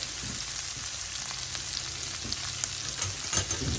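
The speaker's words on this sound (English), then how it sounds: "We got a wood spoon here. So I'm just gonna soften these up, sweat them out a little bit." Diced vegetables softening in a pan, stirred with a wooden spoon, a soft, fairly quiet sizzle with light scraping strokes and a low steady hum in the kitchen, no speech.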